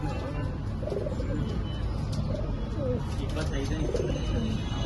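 Pigeons cooing in a loft, with soft repeated low coos close by over a steady background hum, mixed with someone talking throughout.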